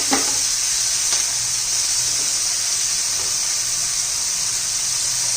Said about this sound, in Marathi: चांगली गवारीला डाग पडेपर्यंत आपण परतून घेणार आहे